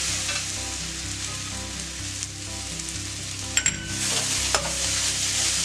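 Onions and curry leaves sizzle in a pan for a Kerala egg roast, a steady bright frying hiss under occasional sharp clinks and scrapes of a stirring spoon.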